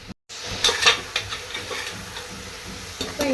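Onions sauté in a pan, a faint sizzle broken by light stirring clicks and taps of a utensil, close and without talk.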